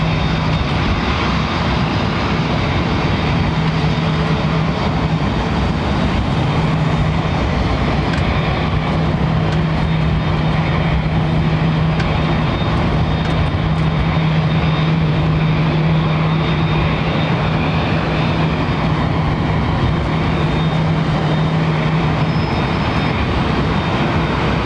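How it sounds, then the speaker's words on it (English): An airliner takes off at full throttle at London Heathrow Airport, producing a loud, continuous broadband roar with a steady low hum that runs unbroken throughout. "Firewall the power, i.e. sending the throttles right up through to toga almost."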